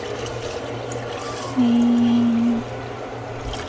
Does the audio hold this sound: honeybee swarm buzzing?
no